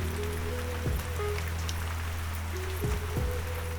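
Steady rain pattering on foliage and ground in the Butchart Gardens, Canada, with a low engine-like hum and a few brief swooping tones passing underneath.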